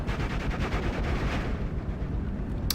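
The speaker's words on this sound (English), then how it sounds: "they run out of ammo pretty quickly because they get to firing" Half-track machine-gun fire in the World War II strategy game Steel Division 44 comes as a rapid, continuous burst of rattling shots, fairly loud and unbroken throughout, with no talk over it.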